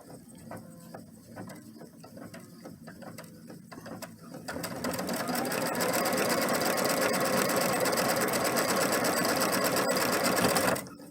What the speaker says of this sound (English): And then sew it down.